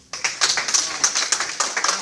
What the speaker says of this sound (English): Can we please give our round of applause?